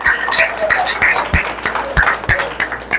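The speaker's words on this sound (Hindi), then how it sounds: "प्रभु को तालियां बजाइए, धन्यवाद दीजिए" A church congregation claps in praise of the Lord, a loose run of sharp, close hand claps in an uneven rhythm, with a voice speaking faintly underneath.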